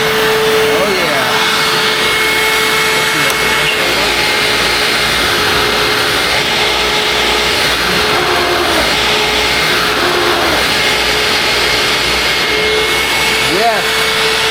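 A Hoover WindTunnel Ultra self-propelled upright vacuum cleaner runs with a steady, loud whine and a constant airy roar from start to finish, close by, with faint changes in tone as it moves.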